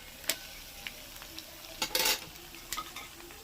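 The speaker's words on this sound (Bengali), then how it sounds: "চিকেনটাকে ওলট পালট করে একদম পুরো মচমচে করে ভেজে তুলতে হবে" Chicken pakoras fry in hot oil to a crisp, a quiet steady sizzle broken by sharp metallic clinks and a short burst of louder bubbling as pieces are turned.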